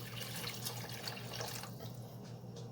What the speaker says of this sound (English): Oh, add some water.